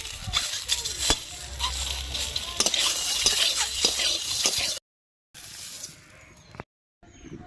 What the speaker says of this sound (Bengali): ডিমটা খুন্তি দিয়ে এইভাবে খুঁচে খুঁচে দেবো